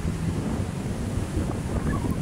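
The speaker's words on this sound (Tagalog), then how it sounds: "Magalaw ang dagat" Rough sea waves wash steadily at Manila Bay while strong wind buffets the microphone in a constant low rumble that largely masks the surf.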